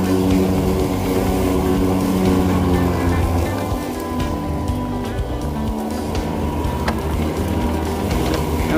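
A Toro 22-inch Super Recycler 60V electric mower cuts through thick grass, its spinning blades giving a loud, steady, close whirring roar that holds level throughout with no voices.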